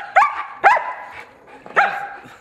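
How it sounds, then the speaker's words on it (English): A German Shepherd yips and gibbers in three sharp, high bursts with short gaps between them, close by, with other dogs around in a lively group of several breeds. "that gibbering you hear, or that yipping you hear, is Maya. She's a German Shepherd."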